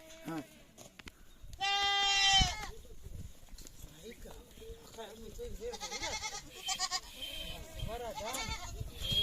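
Goats bleat nearby, one loud wavering cry followed by several shorter bleats from a few animals, with people talking in the background.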